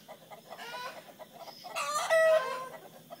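Wild chickens cluck and squawk close by, with one bird rising into a short, crowing call; no one speaks.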